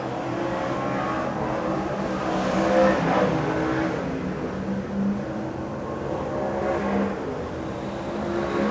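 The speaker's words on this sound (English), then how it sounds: "Scott McEwen just a little bit wide and out into the concrete wall" Superstock race cars lapping a New Zealand speedway oval in practice, a steady continuous engine roar with swelling and fading passes and no clear gaps, loud and dense throughout.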